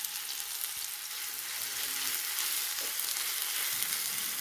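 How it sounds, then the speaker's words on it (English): Finely chopped onions sizzle in desi ghee on a hot tawa, a steady bright hiss of frying with occasional soft stirring touches, close and continuous with no talking. "We have to fry the onion until they are lightly golden brown in color"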